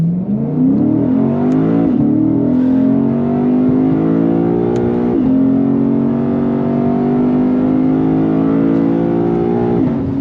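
A Lexus IS 500 F Special Edition V8 engine revs and climbs in pitch repeatedly, dropping back between pulls, with a deep throaty roar close to the microphone throughout.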